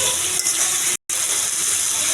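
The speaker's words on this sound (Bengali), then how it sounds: "তো আমি তরকারিটা ঢেলে দেবো" Pre-boiled curry poured into a hot pan for a thin rohu fish curry with okra: a continuous loud gushing, bubbling hiss with a brief gap at the midpoint, no talking.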